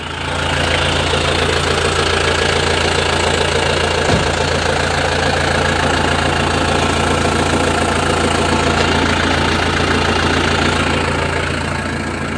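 A loud, continuous diesel engine of a 2014 Chevrolet D-Max 2.5 pickup with straight exhaust idles with a rough, knocking rumble and raw exhaust drone, steady throughout at close range.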